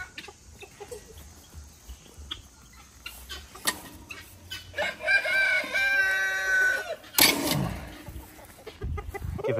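Guinea fowl on a farm animal sanctuary give a burst of loud, repeated harsh calls midway, among crickets and scattered clucks and knocks.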